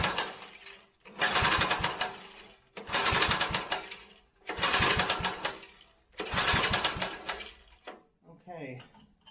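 A vintage Briggs engine being cranked repeatedly without starting, four long rhythmic pull-start bursts of chugging compression separated by brief pauses, close and loud.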